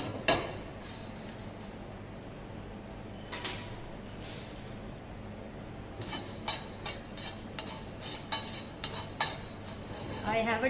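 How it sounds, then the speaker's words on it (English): Masala spices dry roasting in a pan over a slow flame. Faint scraping and light metallic clinks of stirring become a steady run of taps and scrapes partway through. "Switch on the flame and roast it on a slow fire."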